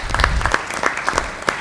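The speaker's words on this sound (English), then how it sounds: "we'll give her a round of applause" Brief applause from an audience at a school board of education meeting, a short burst of scattered hand claps in a room.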